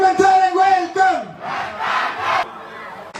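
A crowd at a political election rally shouts loudly together, then breaks into a burst of clapping and cheering that fades into a softer murmur.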